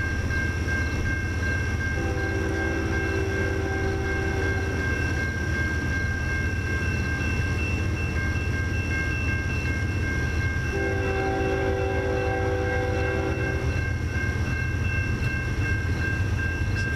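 A CN freight train led by a GE ES44 Gevo locomotive rolls past at Ladysmith with a constant heavy rumble, while two long horn blasts sound near and loud, separated by a stretch of plain rolling noise.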